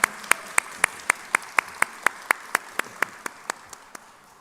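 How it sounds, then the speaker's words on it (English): Slow, evenly spaced handclaps, roughly one every quarter second, sharp and fairly close, from a live audience greeting guests on an interview stage; the claps stay steady and faintly taper toward the end with no talking. "give a huge round of applause for both the OGs here"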